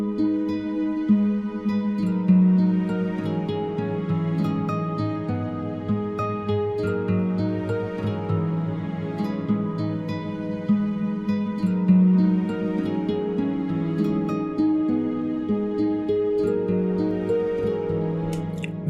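Gospel beat in FL Studio with sustained pads and strings layered together, playing slow, steady chords that swell and shift with no one talking over them.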